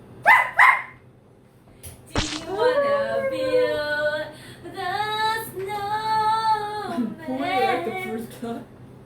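A high-energy dog arriving in a room with other dogs gives a couple of sharp, close barks, then a long run of whining, whimpering yips. People talk nearby.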